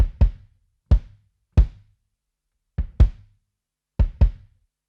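Kick drum miked with a Rode tube microphone in front, struck alone in loose pairs and singles, each hit a deep thump with a short boomy tail and a touch of room, for a metal-style kick sound.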